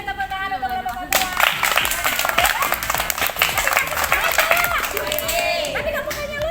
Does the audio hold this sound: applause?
yes